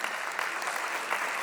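Audience applause at a seminar on early childhood, a steady dense patter of many hands clapping, fairly close and continuous throughout.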